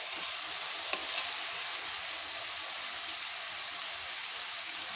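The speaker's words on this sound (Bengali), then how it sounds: "এখন ভালো করে একসঙ্গে নেড়ে নেব।" Spices with turmeric and salt being stirred in a hot pan for a mocha dish with hilsa fish head, a steady close sizzle of frying with scraping stirs, one sharp clink near the start.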